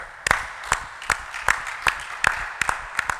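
A church congregation claps in praise as an offering to the Lord, loud rhythmic hand claps landing about every third of a second in a steady beat, close and clear.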